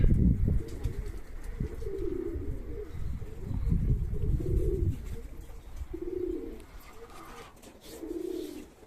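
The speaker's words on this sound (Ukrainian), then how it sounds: "вяхри літають. Уже повний посілок вяхрів." Wood pigeons coo repeatedly in a village setting, soft low hooting phrases recurring in rhythmic bursts every second or two, moderately near over a steady outdoor background.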